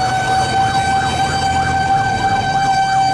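A fire engine siren wails continuously at close range through congested traffic in Busan, its tone rising and falling in a steady rapid cycle over a low engine rumble.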